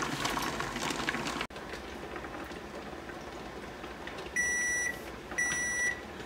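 A kitchen timer gives two long electronic beeps over the steady hiss and rumble of a pressure canner processing green beans, the beeps loud and clear near the end.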